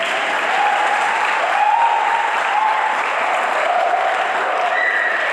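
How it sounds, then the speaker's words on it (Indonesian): Congregation applauding for Jesus Christ at a Christmas church service, a loud, even wash of clapping from many hands lasting throughout, with some voices and a tonal sound mixed underneath. "Yuk, boleh tepuk tangan untuk Tuhan kita Yesus Kristus"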